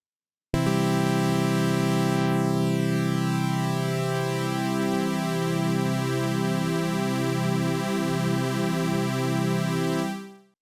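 A sustained Ableton Live Drift synth chord with its drift modulation turned up, entering abruptly and holding steady for about ten seconds as its harmonics slowly shift and beat against each other before fading out at the end.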